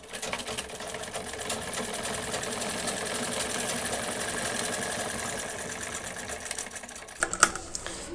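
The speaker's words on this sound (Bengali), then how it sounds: "সেলাইটা ডাবল করে দিয়ে দিব।" A sewing machine hums steadily and up close while stitching a salwar seam, running continuously for several seconds before stopping with a few clicks and knocks.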